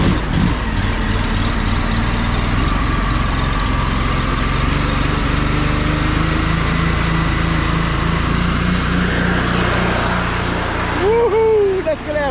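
A Mini Mondo concrete injection pump's engine runs loud and steady at about 10.6 gallons a minute, a continuous mechanical drone with a faint voice partway through.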